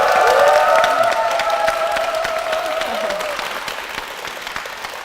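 Audience in a church breaking into loud, sustained applause, with a dense patter of many hands that gradually tapers off, and a sustained musical tone ringing beneath the clapping at the start.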